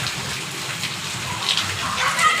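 Evening rainwater pours steadily in a close, splashing gush that grows slightly louder toward the end, with no speech on top.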